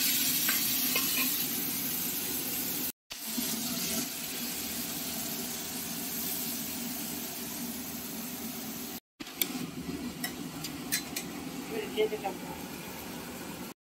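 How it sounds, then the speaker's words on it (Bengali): Nigella seeds, bay leaf and ground spice paste sizzle steadily in hot oil for a Bengali boal fish curry, a continuous frying hiss with some stirring, close and loud, broken by two brief cuts. "সেই তেলে দিয়ে দেওয়া হচ্ছে কালো জিরে, দিয়ে দেওয়া হচ্ছে তেজপাতা, মিক্সির তৈরি করে রাখা মশলাটা দিয়ে দেওয়া হবে।"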